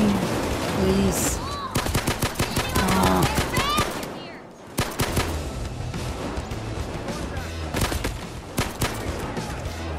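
Rapid automatic gunfire and bursts of shots from the video game Payday 2, loud and dense through most of the stretch, with a brief lull midway and voices cutting in under the shooting.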